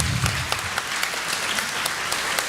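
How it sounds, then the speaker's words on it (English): Gala audience applauding a donor, a steady patter of many hands with a few sharper nearby claps standing out, continuous across the whole stretch. "So let's give that person a round of applause."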